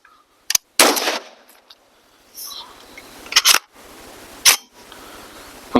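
A BRN-180 rifle fires a few sharp, loud, widely spaced shots on a range, each crack ringing briefly, with mechanical clicks and quiet stretches between.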